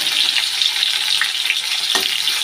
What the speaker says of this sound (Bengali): পেঁয়াজটা হালকা একটু ভেজে নিই